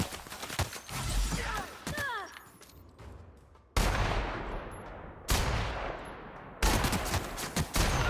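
Sniper rifle shots in a video game land as three heavy, booming reports, each trailing into a long decaying rumble, after a busier stretch of mixed game effects and gunfire.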